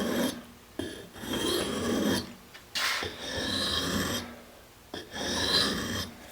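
An axe blade is sharpened on the smoother side of an India stone, giving repeated close rasping strokes of a second or so each, separated by brief pauses, with no talking.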